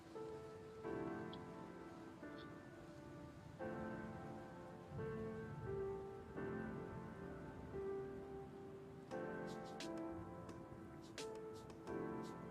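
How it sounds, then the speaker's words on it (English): Heavy rain pours steadily during a severe storm in a tornado outbreak, with gusty wind and occasional sharp patter of drops on a nearby surface, loud and continuous across the stretch. "I am getting some heavier winds and rain up here."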